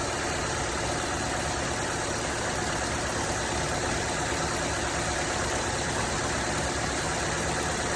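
A 2010 Mazda 6 engine idles steadily with an even, unbroken mid-range hum and a faint vibration throughout, with no talk over it.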